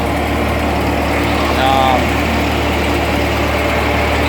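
Tractor engine idling, a loud, steady low rumble close by that stays even for the whole span, with a brief rise in the middle.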